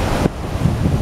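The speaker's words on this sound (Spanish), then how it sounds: "entonces entra por aquí abajo y está entrando mucho el oleaje" Ocean waves surge onto a wild beach at Cabo, a loud, continuous wash of surf with wind buffeting the microphone throughout, briefly dipping before the rush builds again.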